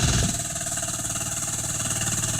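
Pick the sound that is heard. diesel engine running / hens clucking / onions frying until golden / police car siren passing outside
diesel engine running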